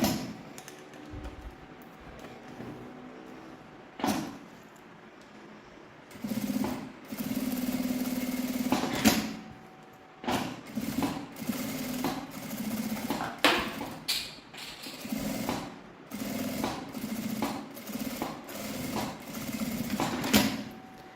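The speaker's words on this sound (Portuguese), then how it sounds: "vou passar uma costura em toda a volta e uma costurinha aqui nesse viés" A sewing machine whirs in repeated bursts of steady mechanical stitching around a shoulder bag's edge and bias trim, pausing briefly between runs, close and moderately loud with no talking.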